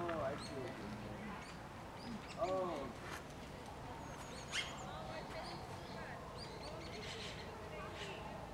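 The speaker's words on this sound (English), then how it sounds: "You hear the bird?" A bird calls with short chirps and whistles at a campsite in the morning, moderately near amid soft outdoor background noise, and a few sharper calls stand out.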